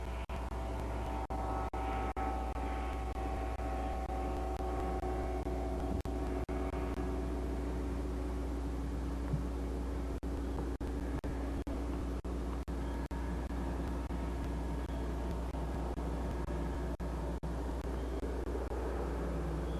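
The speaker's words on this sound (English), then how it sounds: "The aircraft flies nose up most of the time when in reference to the ground." An ultralight aircraft on its first test flight drones steadily and faintly at a distance, a constant engine hum with no speech.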